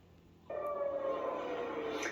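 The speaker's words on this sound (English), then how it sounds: "which set off sirens in Tel Aviv this morning." Civil defense siren wailing over Tel Aviv during missile fire, a steady sustained tone starting abruptly and holding loud with no one speaking.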